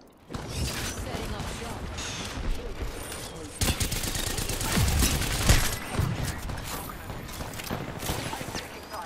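Gunfire in an Apex Legends match: dense, rapid shots at moderate loudness run almost throughout, mixed with impacts and game noise, with a voice speaking briefly at times.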